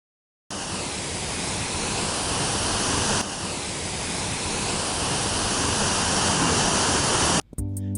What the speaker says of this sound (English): we're walking up here to the 5th waterfall right now